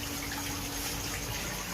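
Pond filter pump pushing water up through a pipe, a constant faint rushing gush of flowing water with a low steady hum beneath, no voices.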